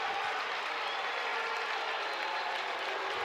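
Tennessee fans in a college baseball crowd applaud and boo after a home run by their first baseman in a road game against Ole Miss, a steady, distant roar of mixed clapping and jeers with no pauses.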